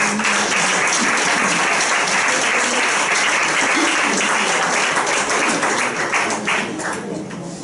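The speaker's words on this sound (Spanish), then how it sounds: "denme un aplauso fuerte a las visitas" A church congregation claps loudly for visitors, a sustained, close, dense round of applause that thins slightly toward the end.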